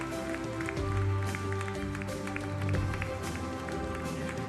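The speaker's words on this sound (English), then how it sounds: "I'm sure your applause can be a little louder than what it is right now." At a graduation ceremony of the Nebula Institute of Technology, an audience claps in a steady, dense patter of applause, with music and a voice running beneath it.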